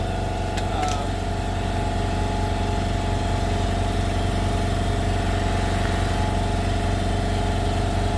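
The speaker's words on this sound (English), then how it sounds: "the compressor kicks on" An air compressor runs in a home garage, a steady, fairly loud mechanical drone that holds unbroken throughout with no pauses and no talking.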